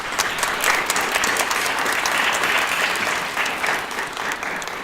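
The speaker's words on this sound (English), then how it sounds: "let's give them another round of applause" A crowd claps steadily at a university convocation in dense, close applause that holds at a constant level, easing slightly near the end.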